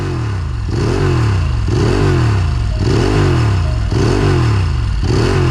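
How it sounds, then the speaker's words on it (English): A Ducati 916 motorcycle with its 916cc engine revs repeatedly, each blip rising and falling in a steady rhythm of about one per second, loud and close with no talk. "Let's get a sound check of that classic 916."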